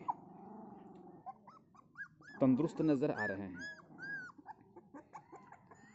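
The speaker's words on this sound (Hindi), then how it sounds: "छोटे छोटे कुत्ते के बच्चे की आवाज़ सुन सकते हैं" Newborn puppies whimper and squeak in short high cries throughout, close and small-voiced, while a person talks over them in the middle.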